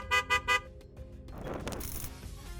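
Three quick vehicle horn honks ring out in a row, loud and close, on an Indian road, followed by a softer wash of traffic and engine noise.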